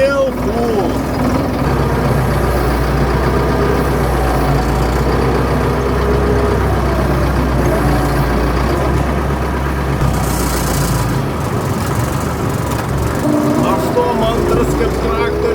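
A farm tractor engine idles steadily close by in a low, continuous rumble, with someone talking over it throughout.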